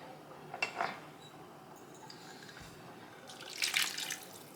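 A cup of water is poured into a bowl while mixing Bajan sweetbread batter. Two short splashy bursts of pouring stand out over a low kitchen hiss, with no one talking.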